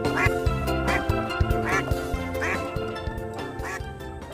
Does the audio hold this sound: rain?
no